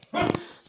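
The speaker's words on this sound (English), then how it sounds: "Might have to let the dog out in a minute. He's woofing." A single short dog bark sounds from a distance indoors in a workshop setting, one brief woof that quickly fades.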